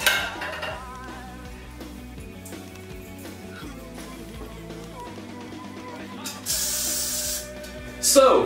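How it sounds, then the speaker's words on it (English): Hairspray sprayed onto hair, two short hissing bursts from an aerosol can near the end, close and fairly loud, after quieter handling sounds with faint background music. "you take some more hairspray, you want it to hold, so use some of it."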